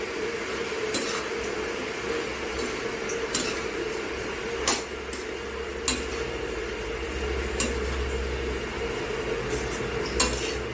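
Washed and cut mushrooms go into a pan for mushroom gravy and are stirred: a steady low sizzle runs throughout, with a few sharp spoon clinks against the pan's metal standing out over it.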